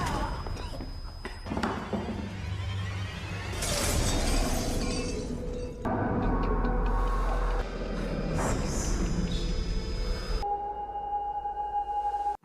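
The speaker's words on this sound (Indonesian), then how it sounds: "ia pun menghancurkan laptop Jun di hadapannya hingga tidak bisa diselamatkan lagi" A laptop is smashed and destroyed, heard as loud crashing, shattering and heavy thuds in bursts with sharp tonal beeps, set among dramatic film effects and music.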